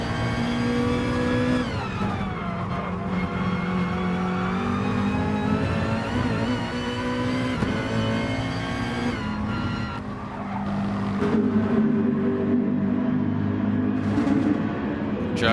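Race cars in a sim racing endurance championship drive hard, with continuous high-revving engine whine that rises and falls through gear changes and tire squeal, loud and close, with no voices over it.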